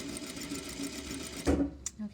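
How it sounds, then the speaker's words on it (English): A sewing machine runs a straight stitch along the raw edge of a fabric piece guided against the presser foot, with a steady, close, rapid whirring for about a second and a half before it stops, followed by faint handling noises. "I'm gonna line up my raw edge against the foot here, and I'm gonna try to use that to sew a straight line."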